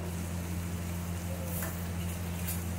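Spice paste with chili, turmeric and coriander powders frying in a pan, a steady close sizzle running throughout with faint scraping of stirring.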